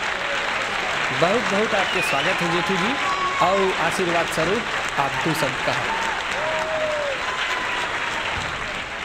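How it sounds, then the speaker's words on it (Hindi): An audience applauds at a stage event for the Chhattisgarh state foundation day, steady clapping throughout while someone speaks over a microphone and sings. "जोरदार तालियाँ"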